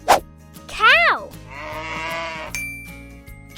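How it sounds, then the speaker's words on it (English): A cow gives one drawn-out moo, close and clear, following short cartoon-style sound effects and followed by a bright chime. "Cow."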